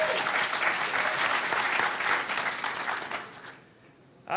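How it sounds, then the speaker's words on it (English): Audience applause after a lightning talk speaker is introduced at a hackerspace event, a steady dense clapping that holds for about three seconds and then fades away. "Okay, everybody give Vladimir a huge round of applause and let him go."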